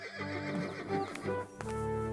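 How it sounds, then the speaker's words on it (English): Cartoon horse in a stable giving a loud, close, quavering neigh with several whinnying pulses, followed by a short snort and a final rising whinny. "You have bought the finest horse in my stable."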